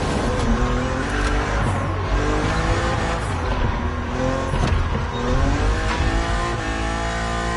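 BMW Z4 E89 driving in The Crew Motorfest, a loud engine revving up and down through the gears, with rising pitch sweeps and some tire squeal, with no talk.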